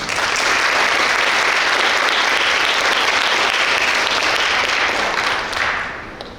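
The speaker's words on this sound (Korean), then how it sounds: "올해 새롭게 우리 학교에 오시는 선생님들을 향해서 감사와 환영과 잘 부탁드린다는 부탁의 박수를 보내주시기 바랍니다." Sustained applause from a school ceremony audience welcoming new teachers, dense steady clapping filling the hall for several seconds before tapering slightly at the end, with no talk over it.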